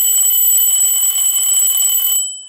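A small retro alarm clock with a backlight rings in a bright, continuous high-pitched electronic beeping tone, loud and steady for about two seconds before cutting off abruptly.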